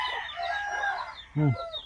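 A single loud gamecock crow, close by, following a stretch of quieter clucking and background noise.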